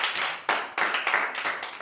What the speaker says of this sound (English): You want to clap unto the